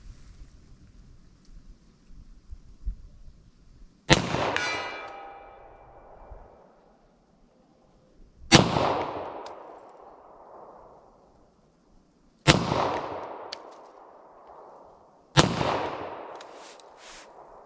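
.40 Smith & Wesson pistol rounds, Federal Solid Core Syntech, are fired outdoors at a ballistic test: four loud, sharp reports spaced several seconds apart, each trailing off in a rolling echo, with quiet between them.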